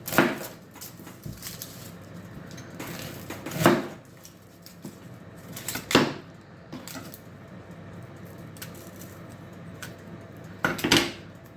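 A knife cuts an onion on a chopping board during home cooking, giving a few sparse, separate knocks spaced several seconds apart against a quiet kitchen background, with no talking.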